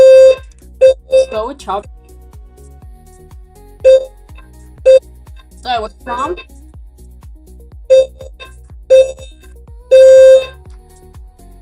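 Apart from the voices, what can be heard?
fire alarm going off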